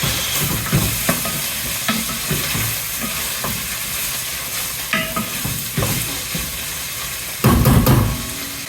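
Onions and pancetta fry in a pan with a continuous loud sizzle, broken by repeated scrapes and clatters of stirring and a heavier knock near the end.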